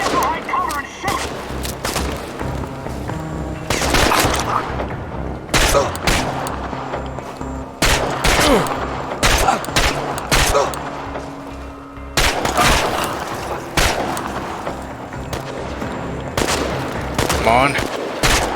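Bursts of gunfire in the video game Chernobylite, repeated sharp shots and rapid volleys cracking in clusters across the stretch, with spoken voices between and under the firing.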